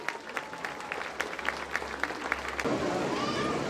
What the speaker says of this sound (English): I want you to clap for her, please.